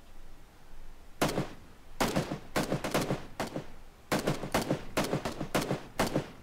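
Gunfire in the video game PUBG, bursts of sharp automatic shots in quick clusters separated by short gaps, fairly loud and close, with no talking over them.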